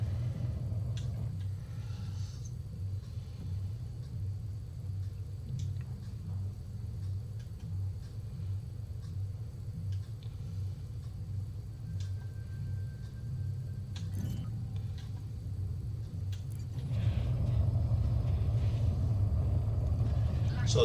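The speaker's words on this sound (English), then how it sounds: "It actually auto lands, especially if you have one of the modules, the auto docking, advanced auto docking" Spaceship auto-landing with landing gear engaged in a space game, a steady low engine rumble and hum throughout that swells louder and fuller near the end as the craft settles.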